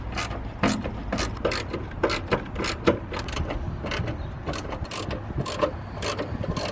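Rapid ratchet clicking in repeated bursts while 14 mm strut top bolts come off a Mazda Miata during a coilover install, close and fairly loud, steady rhythm of pawl ticks over faint workshop background.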